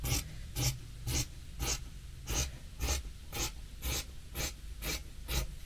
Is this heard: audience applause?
no